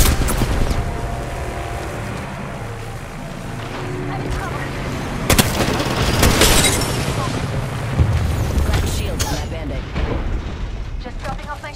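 Gunfire and booming blasts from a video game crackle and rumble continuously and loudly, with sharper bangs standing out amid the dense battle din.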